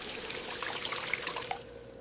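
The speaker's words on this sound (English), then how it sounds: "Rinse the rice with cold water." Cold water trickles and splashes over rice being rinsed in a kitchen, soft faint pouring with small irregular drips and droplet pings, no speech.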